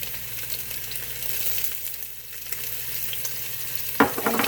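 A whole diced onion fries in hot oil in a home kitchen pan, a steady close sizzle with a sudden louder clatter and crackle near the end as it is stirred.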